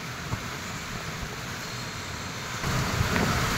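A strong storm wind blows steadily outdoors, a dense, continuous roar that buffets the microphone and grows a little louder toward the end, with no voices.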